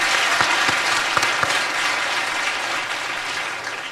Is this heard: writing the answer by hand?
no